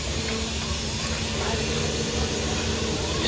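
CNG gas pumped into a car at a filling point gives a steady, close hiss of pressurised gas that holds evenly for a few seconds without pausing.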